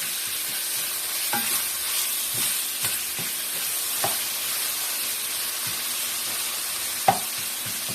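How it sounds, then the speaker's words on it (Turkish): Minced meat and green beans sauté in a hot pan with a steady close sizzle, punctuated by repeated scraping and knocking strokes of a spatula as the mixture is stirred. "Önce şu kenarda biraz kavuruyorum ve sonra her yere karıştırıyorum"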